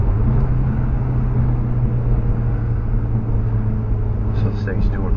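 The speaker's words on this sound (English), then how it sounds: "Definitely sounds like a turbo car now." A turbocharged 2019 VW Golf R engine drones steadily with a deep low rumble throughout, loud and close, with a faint whistle-like hiss near the end.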